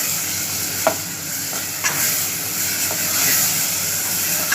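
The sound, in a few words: brinjal bharta frying and being stirred in a pan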